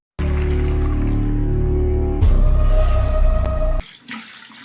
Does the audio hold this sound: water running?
yes